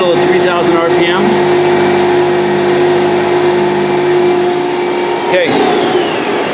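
Haas SL-20T CNC lathe spindle spinning at 3,000 RPM, a loud, close, steady whine and hum with a constant tone, while a person speaks briefly over it.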